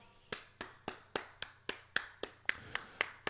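A single person claps about twelve times in an even, unhurried rhythm, quiet and close, over a low steady hum, during a live watch-along of a Jamaica v Suriname Gold Cup football match.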